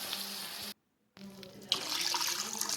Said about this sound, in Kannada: ಮತ್ತೊಂದು ಎರಡು ಗ್ಲಾಸ್ ನೀರು ಹಾಕ್ರಿ